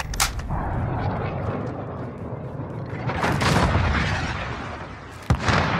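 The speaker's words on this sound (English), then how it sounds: "Allied cruise missile on the way." Heavy blasts and rumbling booms from cruise missile strikes in the Call of Duty Modern Warfare Kilo tactical nuke match, a sustained roar swelling midway with a sharp crack near the end, no talk.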